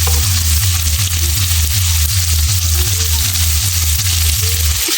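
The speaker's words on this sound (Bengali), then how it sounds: "পেঁয়াজ ভাজবো, ভেজে বেরেস্তা করে নেবো বিরিয়ানির জন্য" Onions fry in oil in a wok for biryani with a constant crackling sizzle over a low, rhythmic pulsing hum.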